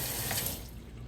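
Water runs loudly and steadily from a tap while the air filter from a 2020 KTM 690 is rinsed clean, the splashing easing slightly toward the end.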